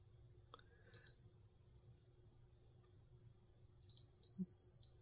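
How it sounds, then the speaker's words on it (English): A multimeter in continuity mode gives faint, thin electronic beeps: a short one early, then a couple of brief chirps and a longer steady tone near the end, with quiet between them. "Put our meter in beepy mode."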